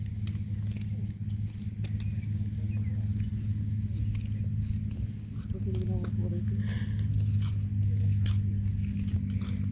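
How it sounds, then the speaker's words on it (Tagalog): A speedboat engine drones low and steady near a fishing pier at Pasadena, growing somewhat louder toward the end, with a person talking nearby over it. "May boat doon. Ang lakas ng tunog."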